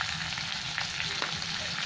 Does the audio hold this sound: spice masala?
yes